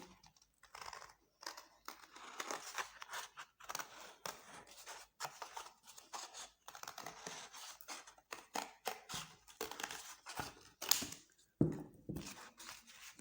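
Scissors snip through fascinator material at close range, a quiet run of irregular crisp cuts and rustles with short pauses between them, and no talking.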